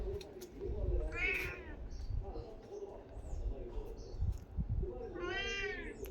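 A cat gives two clear, drawn-out meows, one near the start and one near the end, close to the listener, with a person's voice and soft background noise underneath.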